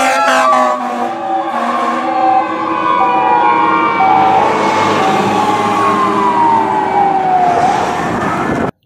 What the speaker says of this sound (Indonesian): kakak menemukan satu buah truk pemadam kebakaran